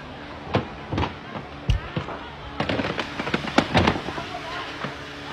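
Firecrackers explode in a scattered series of sharp, loud cracks and pops, some close and some farther off, bunching into a rapid cluster partway through, with faint voices in the background.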